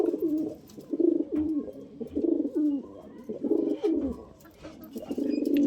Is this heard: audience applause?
no